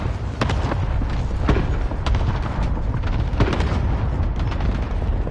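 Airstrike explosions in a multiplayer shooter game, a dense run of loud booms and blasts rolling one after another over continuous battlefield rumble, with several sharp impacts standing out.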